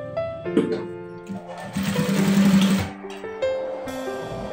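A sewing machine stitches a double-welt pocket on children's trousers, its steady whirring run building to a louder, sustained burst in the middle and then easing off, with someone talking over it.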